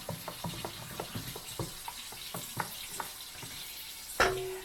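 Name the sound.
stirring bread dough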